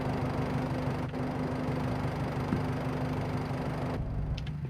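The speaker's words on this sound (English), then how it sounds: "Turn that tractor off." A tractor engine idles steadily in the Farming Simulator game, a low, even mechanical hum with a constant droning tone, close and unchanging, with no voices.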